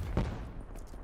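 Video game gunfire: a short, loud burst of shots cracks out near the start, followed by a brief rattling tail of fire.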